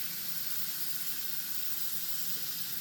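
Steady running tap water pours over a hard-boiled egg held under the stream while it is peeled, a constant close hiss with no pauses and no talking.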